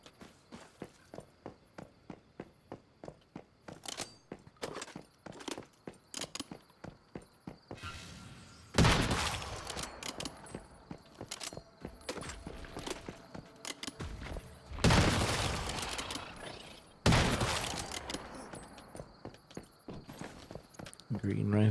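A rifle fires in the game Once Human: quick bursts of sharp shots, with a few louder, denser bursts in the second half and short pauses between them, close and prominent.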